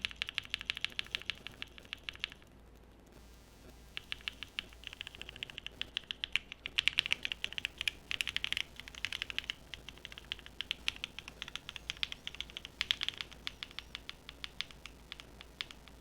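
Fast, continuous clacking of JWK mechanical switches on an Ellora65 keyboard, bright and crisp, with a brief pause early on before the rapid typing resumes.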